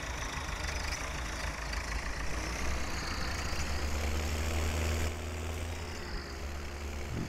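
A tractor engine idling in the video game Farming Simulator 17, a steady low rumble that holds constant and shifts slightly in tone partway through, fairly quiet, with no speech.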